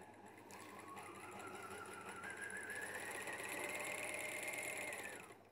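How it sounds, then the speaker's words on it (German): A sewing machine winding a bobbin, a continuous whirring motor hum whose pitch slowly rises and then stops abruptly near the end, close and steady with no talking. "Maschine einschalten und schon können wir spulen"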